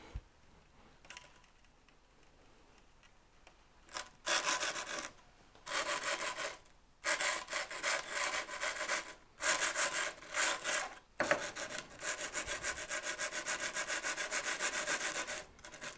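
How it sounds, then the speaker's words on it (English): A Laguna 1632 SuperMax drum sander: a quieter mechanical hum at the start, then loud, coarse scratching bursts as the drum touches the sanding belt, several rasping passes separated by short pauses. "I'm going to lower this down until I hear it scratching on the belt"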